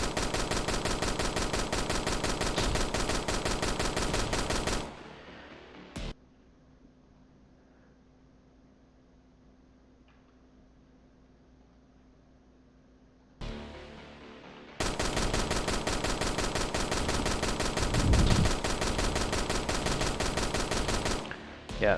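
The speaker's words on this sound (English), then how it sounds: "So that these tanks will shoot at you." Tanks fire rapid, continuous gunfire in a video game, a dense loud barrage that stops for several seconds of near silence, then resumes just as heavily.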